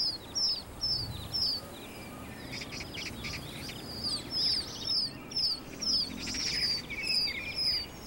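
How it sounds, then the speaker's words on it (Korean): Mother pheasant in a garden calling to gather her chicks, with repeated short high calls and chirps over outdoor ambience, some bursts overlapping, moderately near. "어미 꿩은 침착하게 새끼들을 불러 모은다."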